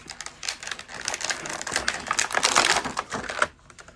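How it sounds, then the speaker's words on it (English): Plastic ties being pulled and snipped off a vintage Skeletor action figure's packaging, a dense run of close, sharp clicking and crinkling snaps lasting several seconds. "Let's get these plastic ties off of him."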